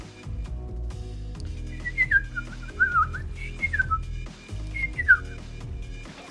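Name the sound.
person whistling imitating a bird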